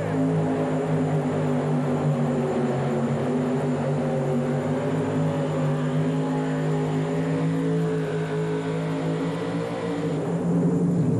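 A modified pulling tractor at the 1986 Indy Super Pull roars loud and continuous down the track while dragging the sled, a sustained heavy engine drone with no speech.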